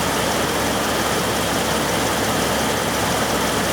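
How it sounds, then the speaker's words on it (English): An EVAP leak detection pump on a Chrysler, Dodge or Jeep runs with a steady, loud mechanical drone and hum, continuous and unbroken throughout. "This pump, oh, there it goes."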